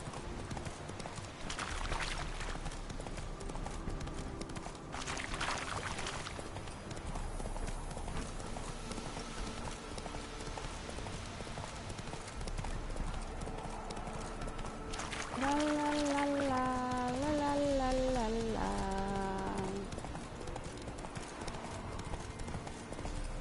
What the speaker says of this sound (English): Der er hesten.